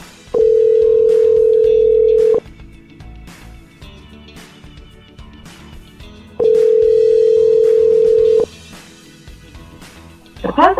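An outgoing phone call rings back in two long, steady tones separated by a pause of several seconds, loud and clear over faint background noise.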